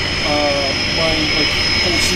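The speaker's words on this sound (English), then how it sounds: "there's a plane coming right there if you want to get it. Yeah, okay, Twin Otter" A Twin Otter airplane flies near Vancouver Harbour airport, its steady engine drone loud and continuous with a strong sustained whine throughout.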